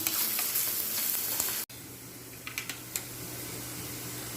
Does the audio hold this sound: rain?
no